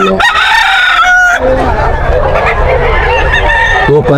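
A rooster crows loudly and close, long drawn-out calls filling the clip, with clucking chickens around it.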